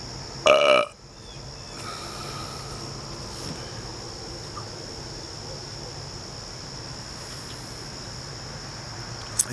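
One short, loud human burp near the start, followed by a quiet background of steady insect chirring.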